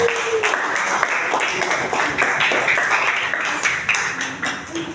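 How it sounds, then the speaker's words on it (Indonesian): Students in a classroom clap together on cue, a steady crowded patter of many hands that runs loud and even, thinning slightly toward the end, with a few scattered voices underneath. "Beri tepuk tangan biar kompak semua."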